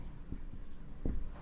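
A pen writes by hand during a maths lesson on matrices, producing soft, quiet scratching strokes with a few brief taps over about a second and a half.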